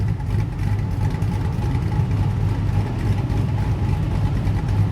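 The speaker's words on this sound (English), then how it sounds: "It's idling smoothly." A car engine fitted with a new cam idles smoothly and steadily up close, a continuous low rumble with no voices over it.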